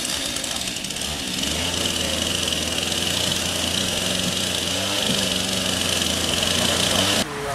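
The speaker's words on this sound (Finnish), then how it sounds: "Kyllä traktori." A tractor engine running steadily at a woodcarving week event, a loud continuous drone with a low hum that holds for several seconds before dropping off, with people talking nearby.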